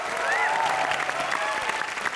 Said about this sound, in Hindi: एक बार जोरदार तालियां बजा दो इसके लिए